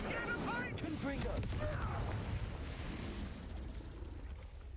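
Incendio and Confringo spells burst in Hogwarts Legacy on Nintendo Switch with a rumbling, crackling blast. Shouted voices and game effects sit on top, and the sound fades slightly toward the end.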